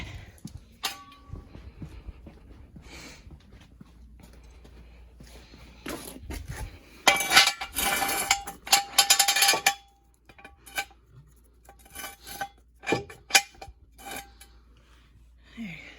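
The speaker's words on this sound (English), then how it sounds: "you can just put the jack stand right on the little pinch weld on the rocker panel" A metal jack stand is set beneath a Subaru Impreza at the pinch weld on the rocker panel, giving a burst of close metallic scraping and clanking in the middle, then scattered lighter clinks and taps in an otherwise quiet garage.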